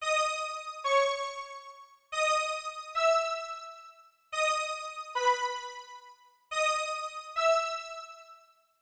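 A bright synth top-line melody from a song, played as four short phrases of sustained, harmonically rich notes separated by brief gaps, clear and alone with no voices.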